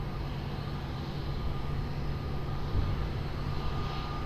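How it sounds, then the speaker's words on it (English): A plane takes off from runway 20 at Lisbon Airport, a steady broad jet roar heard from some distance and holding even throughout, with no talk. "runway 20 cleared for takeoff"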